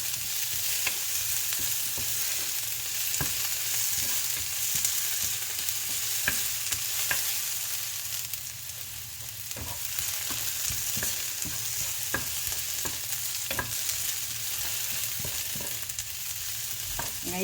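Onions frying in a pan for coconut-milk vegetables with mushrooms, a steady loud sizzle with frequent clinks and scrapes of a spoon stirring throughout.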